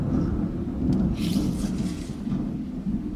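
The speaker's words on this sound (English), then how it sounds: "That's where that thunder is." Deep rumbling thunder rolls on without a break, with a low steady roar and some faint hiss, as if rain were falling too.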